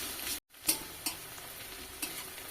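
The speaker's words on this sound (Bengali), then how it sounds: "কয়েক সেকেন্ড পেঁয়াজটা ভেজে নিয়েছি" Onions fry in a pan for ghugni, a continuous close sizzle with a brief dropout early on, followed by a few crisp clicks of a spoon stirring against the pan.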